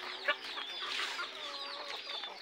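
Free-range village chickens on a small poultry farm cluck softly and continuously, with one brief louder call near the start, heard at a moderate distance.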